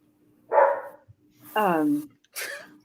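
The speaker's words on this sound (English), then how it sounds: "is he barking just because he likes you?" A dog gives three separate barks in quick succession, moderately close and fairly loud, with a short quiet gap between each.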